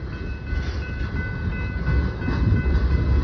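An intermodal freight train rumbles past close by, a steady heavy roar of rolling wheels and cars that grows slightly louder toward the end.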